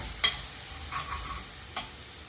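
Onions frying in a pan for radish sambar are stirred in a few faint scraping strokes over a low, steady sizzle, with no one speaking.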